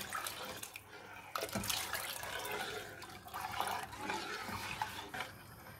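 A glass of water is poured into a buttermilk and gram flour mixture for fresh fenugreek kadhi, giving a continuous splashing pour for several seconds, fairly quiet and close, with no voices.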